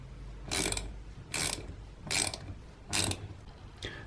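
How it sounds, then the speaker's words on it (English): A ratchet tightening the float bowl bolts of a Keihin PWK 38 carburetor, four distinct bursts of rapid clicking about a second apart, close and crisp, followed by a brief fifth click at the end. "And then secure these bolts down."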